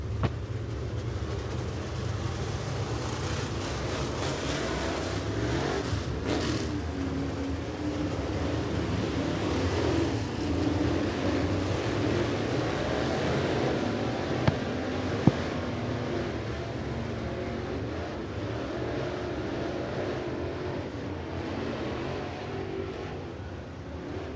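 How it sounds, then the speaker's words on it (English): 604 late model race cars warming their tires on the track at 411 Motor Speedway, a steady wash of engine roar carrying throughout with a broad, distant rumble and no clear breaks. "Tires get warmed up on their 604 late models."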